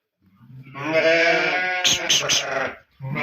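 Sheep and a lamb bleat together in a barn, a long loud harmonic call followed by a few shorter quavering bleats, close and clear, with another bleat starting at the end.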